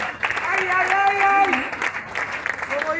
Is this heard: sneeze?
no